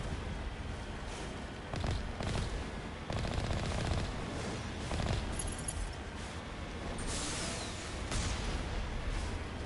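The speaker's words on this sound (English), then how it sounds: "Ah, that's the cannon." A cannon fires repeatedly during combat in the Mass Effect video game, a run of heavy booming bursts in irregular rhythm over a constant rumbling battle din, loud and close.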